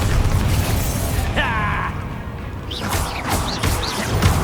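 A Bombardo explosive spell going off in Hogwarts Legacy as a loud, dense rumbling blast that fills the short moment, with a brief tonal effect and faint voice fragments over the top.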